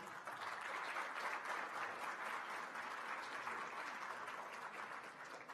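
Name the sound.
audience applause welcoming a guest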